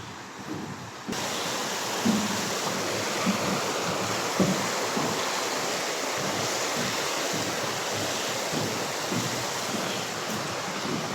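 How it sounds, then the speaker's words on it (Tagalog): The Cacaoiten river in Pangasinan rushes steadily past a swimming spot, a broad, constant wash of flowing water with no voices and no breaks. "Meron po dito ngayon ilog."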